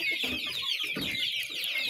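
Chickens cluck close by in a rural backyard, with a mother hen among a crowded flock, giving a couple of short, agitated bursts over a constant bright chatter.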